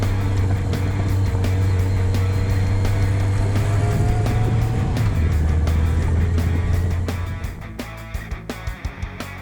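An adventure motorcycle rides down a rural dirt road, its engine droning steadily and loudly up close with a low, even tone that shifts pitch midway. Near the end the engine eases off and brief knocks and clicks come through.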